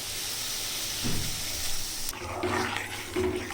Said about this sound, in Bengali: জলটাও ফুটে গেছে তো এইখানে ডালটা আমি দেখো ঢেলে দিচ্ছি